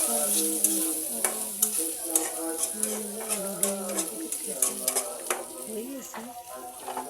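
Curry simmering and sizzling in a pan just after a splash of water goes in, a steady bubbling crackle with stirring clinks close by, alone without talk.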